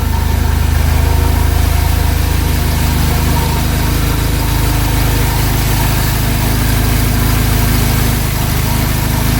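A turbocharged Volkswagen Golf R Mk7 engine idles loudly and steadily close by after its first start, with a low rumbling drone and a faint higher whine, running continuously with no voices.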